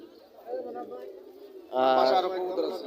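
Pigeons at a bird market coo in low, throaty, rolling calls, one softer call followed by a louder, fuller one nearby, with chatter in the background.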